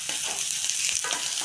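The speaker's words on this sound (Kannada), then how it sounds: "ಇದೆಲ್ಲ ಈರುಳ್ಳಿದು ಒಂಬಣ್ಣ ಬರೋವರೆಗೂ ನಾವು ಚೆನ್ನಾಗಿದ್ದನ್ನ ಹುರ್ಕೋಬೇಕು" Onions fry in a pan for chutney, a close, steady bright sizzle with soft stirring swishes over a brief moment.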